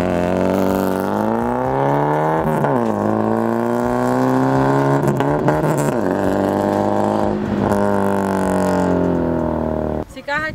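A lowered Volkswagen Gol quadrado on air suspension idles steadily with a loud, even engine hum and small rev swells, a voice talking over it before a brief clatter at the end.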